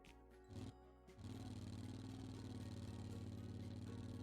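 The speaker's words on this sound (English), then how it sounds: "Yeah, that sounds like a lawnmower." A small engine in a video game car buzzes like a lawnmower, with a few short sputtering starts followed by a steady, rattling putter that continues close up.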